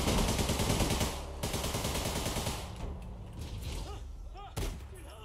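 Gunfire in the online shooter APB Reloaded during a Halloween event, a dense loud burst of rapid shots at first, then thinner scattered shots and a sharp crack near the end over game noise.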